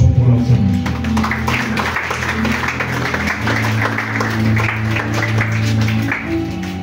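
Applause at a tombstone-laying ceremony in France, a crowd clapping steadily and fairly loudly under a voice and background music.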